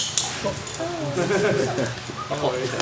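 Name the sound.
dog barking and whimpering during a meeting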